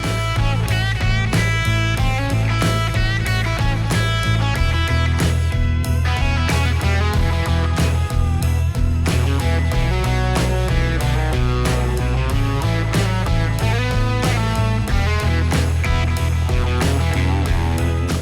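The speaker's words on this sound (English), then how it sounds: "So if you wanted to just remove the vocal, it would sound something like this." Loud, dense instrumental track with vocals removed by a stem splitter, a heavy repeating bass line and driving drums playing continuously with no singing voice.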